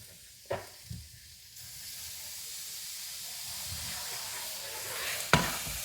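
Water splashed into a hot wok of Kung Pao chicken, with sharp bursts of sizzle that settle into a steady, loud hiss of frying and steam, and one more sharp burst near the end.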